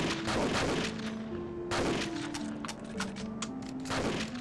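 Shotgun blasts ring out in the top-down shooter game Geneshift, three loud booming shots spaced roughly a second and a half apart, each with a short decaying tail.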